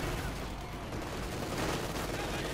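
Gunfire and artillery bombardment in the Company of Heroes 2 strategy game, a dense continuous wash of battle noise with overlapping shots and blasts, loud and steady throughout.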